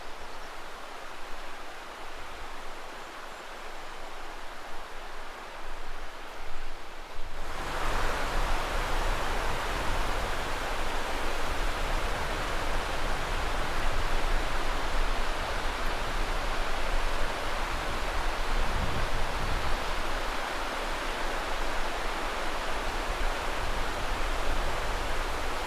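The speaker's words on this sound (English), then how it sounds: "You can hear the water, listen to it." Salmon River in Idaho rushing steadily, a dense broadband roar of flowing water that swells louder after the first few seconds and then holds constant and close, with no voices.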